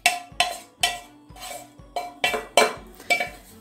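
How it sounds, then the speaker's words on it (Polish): Minced meat and fried onion are mixed by hand in a bowl, with about eight evenly spaced metallic clinks of a utensil striking the bowl, close and clear, with no speech. "Tu już wrzuciłam mięso i teraz wszystko wrzucę i wymieszam."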